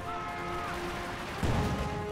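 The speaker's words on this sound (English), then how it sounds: "Go and throw a grenade." A grenade blast and gunfire in a Company of Heroes 2 battle, with steady battlefield noise and a sudden low, heavy explosion landing near the end of a brief stretch, under faint talk.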